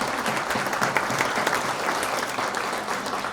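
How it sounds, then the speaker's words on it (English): A lecture audience applauds a sponsor, producing a dense round of clapping with slightly uneven individual claps showing through, continuous and fairly loud. "Round of applause."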